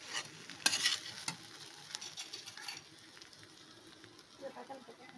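A spoon stirs noodles in a pan as tomato ketchup and masala are mixed in, giving scraping, clattering strokes with a light sizzle underneath, busiest early on and then settling into softer, intermittent stirring.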